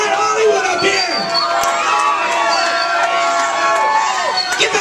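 A wrestling event crowd cheers, shouts and whoops loudly and continuously, children's voices mixed in, with occasional sharp bangs cutting through the roar.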